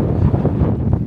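Strong wind buffeting a tent on an exposed hilltop, a close, heavy roar with the top cross pole flexing under the gusts, rumbling and continuous through the brief moment.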